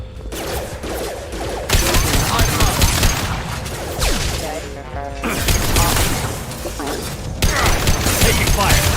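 Firefight in the video game Mass Effect: bursts of rapid gunfire and booming impacts crackle in dense, loud waves, briefly dropping before surging again, with voices speaking amid the shooting.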